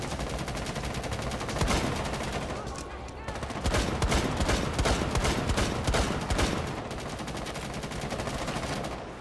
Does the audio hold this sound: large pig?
no